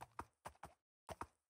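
Donkey hooves clop along in Minecraft, three quick pairs of soft, close steps with short gaps between them, quiet and alone.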